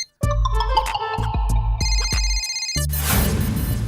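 A melodic telephone ringtone plays loudly, a series of bright electronic tones, then cuts off into a rushing noise.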